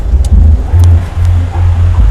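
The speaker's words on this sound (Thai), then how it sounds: "นี่เสียงเครื่องเงียบกริบเลยนะครับ" A 2005 Toyota Hilux Vigo with a 2.5 engine idling, heard as a steady low rumble pulsing in an even rhythm, close and fairly loud with no talk.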